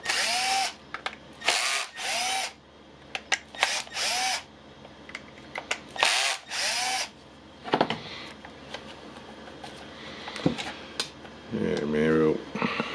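Power screwdriver backing screws out of a Milwaukee M18 18V battery pack, several short whirring bursts separated by pauses, close and loud, with small clicks and handling noises between them.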